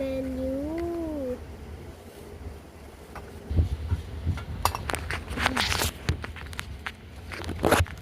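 Cat meowing indoors, two drawn-out rising-falling meows near the start, followed by a softer meow amid light clatter and footsteps in a quiet room.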